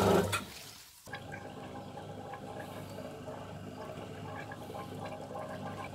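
A Hydro-Vacuum hydrophore water pump gurgles and bubbles steadily after a louder rushing start without delivering water, a low churning wash with faint drips on top.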